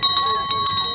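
A ringing bell signals the final lap of a middle-distance track race at a Victorian Milers Club athletics meet. It sounds loud and repeatedly in bright, sustained tones over crowd noise and talking.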